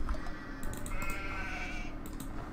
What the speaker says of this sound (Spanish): ¡Mira más ovejas, tú!